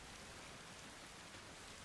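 Steady, dense rain falling in the Arma Reforger video game, a constant loud hiss of drops with no talk over it.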